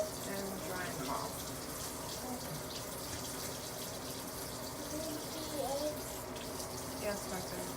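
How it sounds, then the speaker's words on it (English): Tap water running steadily into a sink while blue quail eggs are rinsed, a continuous close splashing flow with a voice speaking faintly underneath. "Rinse them off"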